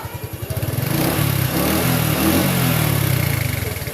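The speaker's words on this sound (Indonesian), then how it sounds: "Honda Revo Speed yang asap ngebul sekarang sudah kita atasi dan saatnya motor kita tes hidupkan" A Honda Revo Speed motorcycle engine, just repaired from heavy smoking, is started and then idles smoothly, a close steady low putter with a rhythmic pulse that settles after the start.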